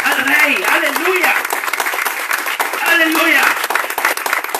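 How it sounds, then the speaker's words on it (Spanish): Church congregation applauding loudly for the King, sustained hearty clapping filling the room while a preacher's voice speaks and calls out over it. "dale palmas fuertes al Rey"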